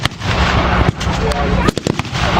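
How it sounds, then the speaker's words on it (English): Infantry rifle volleys crack at a World War 2 reenactment on an open field, with loud overlapping shots and a dense rumble of distant firing throughout. "It's just a volleying bag of infantry shooting."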